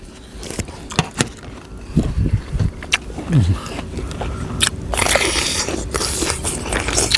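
Crunchy seedless candied Thai jujube bitten and chewed close up, a few sharp crisp bites followed by wet crunching and munching, loud and near, with no speech over it.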